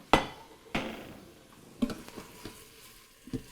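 Sautéed sausage meat is tipped back into an Instant Pot, giving a few sharp clattering knocks of utensil on metal pot spaced over a few seconds, with faint sizzling between them.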